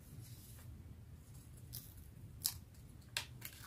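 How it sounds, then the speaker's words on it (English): Scissors snip through paper while cutting out small patriotic star shapes for a craft, a few sharp, quiet clicks spaced apart over faint low background hum. "if you first cut them loose from each other"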